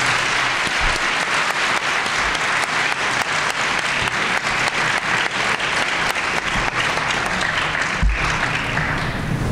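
Audience applause after a university panel discussion on sexuality, dense sustained clapping from a crowd filling the room for the whole stretch, steady and loud without pauses.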